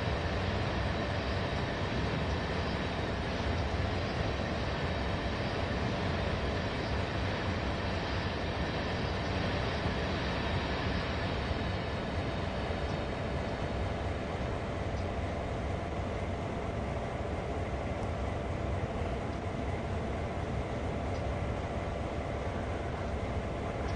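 A freight train with a tank wagon rolls along in the Train Sim World 2 game, a steady, continuous rumble of wheels and wagons throughout with no voices.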